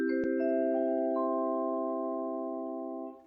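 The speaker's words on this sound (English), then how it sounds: "we use a vibraphone, which I'm sure you've heard before, which sounds like this" Vibraphone notes struck one after another to build a sustained, bell-like chord that rings on and slowly fades, close and clean with no other sound.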